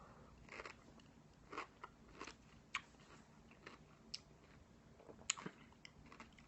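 Crisp, close bites and crunchy chewing on a spicy beer-brined pickle, irregular crackling chomps spread across the moment with no talking.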